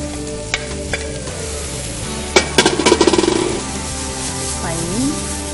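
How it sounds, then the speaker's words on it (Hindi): Blanched sprouts tipped into a hot pan with julienned ginger: steady frying hiss, then a burst of close, loud clattering and scraping as the sprouts go in and are tossed, settling back into sizzle with a brief scrape near the end. "अब हम इसमें स्प्राउट डालेंगे, जो हमने ब्लांच करके रखा हुआ है पहले से ही।"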